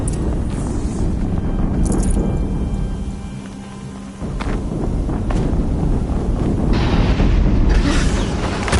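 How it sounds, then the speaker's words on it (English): A rolling explosion in the video game Horizon Zero Dawn, a loud, sustained low roar and rumble that dips briefly midway before surging back with crackling debris near the end. "explosion"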